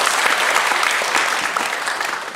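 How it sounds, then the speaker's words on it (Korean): Church congregation applauding visiting deacons from the Philippines during a Sunday morning service, a steady, full burst of clapping from many hands that holds evenly for the whole stretch. "우리 박수로 한번 하도록 하겠습니다."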